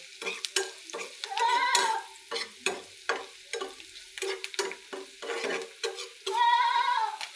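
Spices, salt, and green and red chilli stirred into a sizzling pan for an eggplant and mola fish curry, with a spoon scraping in short, repeated strokes over a steady frying hiss.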